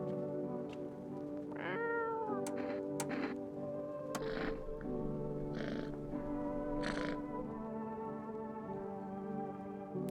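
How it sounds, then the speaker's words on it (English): Cat meowing indoors, several distinct rising and falling meows scattered over about ten seconds, close and clear against a steady background hum, with no talking. "I like the part where the cat says meow."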